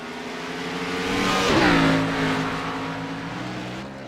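A race car at Watkins Glen International roars past close by, its engine note swelling, peaking and dropping in pitch as it goes by, with other cars droning underneath and no talk.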